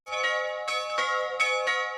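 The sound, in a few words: church bell rung by the last bell ringer of the Bernese Jura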